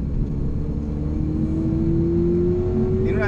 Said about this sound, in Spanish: Todo el sonido característico de los Ferrari.